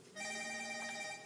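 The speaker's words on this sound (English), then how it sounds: "Sorry, that's my phone." A phone rings nearby: a steady electronic ringtone with bright, sustained tones. It starts abruptly, holds for about a second, then cuts off, with no talk over it.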